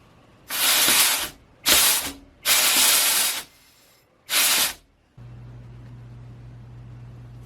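Four loud, close bursts of compressed air from a rubber-tipped blow gun pressed into a transmission pump, each lasting about a second, separated by short pauses, then a low steady hum.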